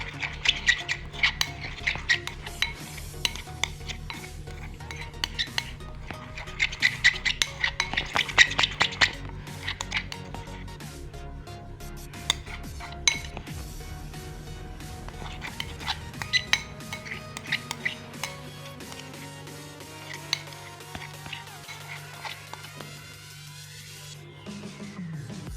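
A spoon mixes sticky homemade butter slime in a bowl, giving frequent light clinks and taps against the dish at an uneven rhythm, close and fairly quiet with no talking.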